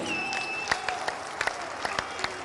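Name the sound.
rally crowd applause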